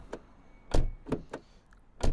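Several solid thunks of a first-generation Ford Focus door being shut, spaced irregularly over a couple of seconds, close by with a quiet cabin in between.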